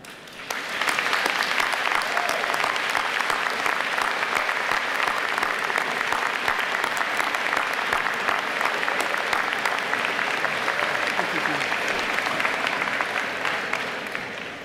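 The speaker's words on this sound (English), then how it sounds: "please join us in a warm round of applause for them" Steady, sustained applause for graduates from a large audience at a university convocation ceremony, dense clapping holding at an even level for over ten seconds before tapering slightly.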